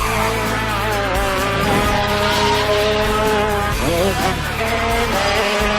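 Go-karts race hard, their high-pitched engines whining and revving steadily while tires squeal through the corners, loud and close for several seconds.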